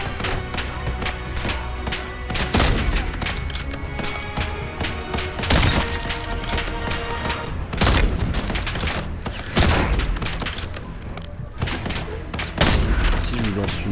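Dense, continuous gunfire from the Black Ops 7 video game, with repeated loud bursts and booms layered over a steady roar of battle throughout.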